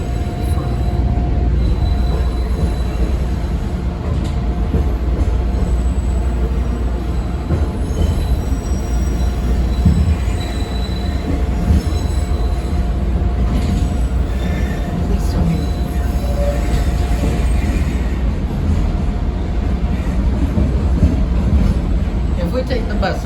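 A CTA Blue Line eight-car train rolls along with a steady, loud low rumble of wheels on rail, faint squeals and rattles running throughout, while voices talk over the ride.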